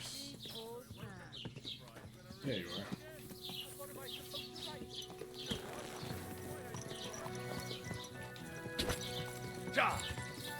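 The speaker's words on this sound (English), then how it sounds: "Where's my horse?" Horse hooves clip-clop in Kingdom Come: Deliverance 2, a steady close rhythm with a neigh and light farmyard ambience, while someone speaks briefly over it.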